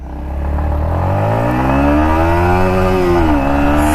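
A Yamaha MT15 motorcycle accelerates hard, its engine note rising steadily in pitch and then dipping briefly at a gear change. The buzzing is loud and close and runs continuously, with no talk.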